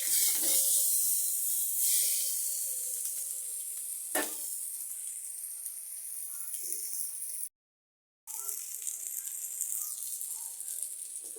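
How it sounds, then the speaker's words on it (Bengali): Eggs fry together with onions in a pan for a curry, a close bright sizzle that fades gradually, marked by a couple of utensil taps and one brief silent gap. "আমি ডিমগুলি একসাথেই বসিয়ে দিয়েছি পেঁয়াজের সাথেই ভাজি হয়ে যাবে"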